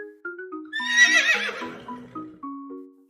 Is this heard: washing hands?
no